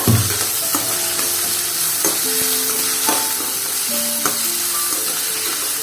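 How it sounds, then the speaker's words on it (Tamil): Tomatoes and vegetables sautéing for idli upma in a pan, a steady close sizzle with repeated utensil stirring and scraping clinks throughout, no voices. "தக்காளி நல்லா வதங்கட்டும்."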